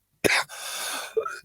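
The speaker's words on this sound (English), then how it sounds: "before the cough overtakes me" A man coughs during a talk: two sharp, close coughs about a second apart, with a rough, breathy rasp between them.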